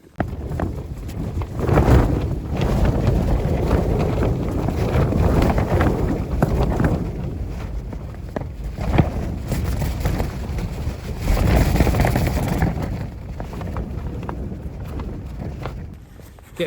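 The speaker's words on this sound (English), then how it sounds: "some really strong gusts coming through now. Really rattling the tent when they hit." Strong wind gusts buffet and rattle a Hilleberg Akto tent pitched on a winter Munro summit in the Arrochar Alps, a loud continuous roar of flapping fabric rising and falling in surges, with no voices.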